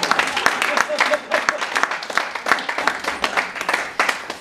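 A church congregation claps and applauds in praise of the Lord, a loud, busy run of overlapping hand claps with uneven rhythm and a few voices mixed in throughout.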